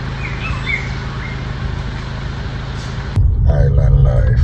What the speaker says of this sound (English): Sing, bird, sing.